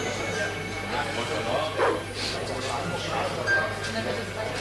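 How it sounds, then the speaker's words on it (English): A dog in Broken Sword 2 gives a few short barks and yips at intervals over a steady hum, while a person talks. "And let's get rid of the dog."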